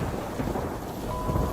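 A thunderstorm with steady heavy rain and a low rumble of thunder, played as a sound effect, filling the short stretch at an even, moderately loud level with no voices.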